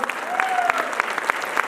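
A standing audience at a large meet-up clapping loudly in a steady, rhythmic beat, with a faint whistle or voice rising briefly over the claps.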